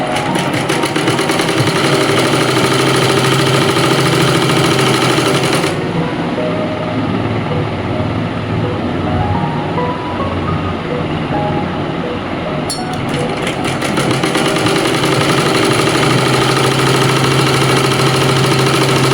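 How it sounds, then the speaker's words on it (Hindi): Sewing machine running steadily while stitching the side seam of trousers with a half-inch margin, a continuous loud motor hum that briefly eases midway and then resumes. "सिलाई वही 1/2 इंच का मार्जिन लेते हुए आपको बराबर बराबर सिलाई करनी है ऊपर से नीचे तक"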